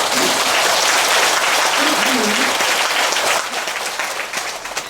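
A hall audience claps steadily at a Buddhist monk's Wednesday dharma talk in the BBS dharma hall. The applause is loud and dense, then thins out toward the end, with a few voices faintly audible underneath.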